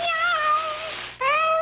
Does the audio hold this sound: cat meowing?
yes